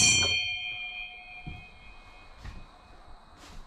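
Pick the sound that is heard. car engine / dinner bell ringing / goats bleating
dinner bell ringing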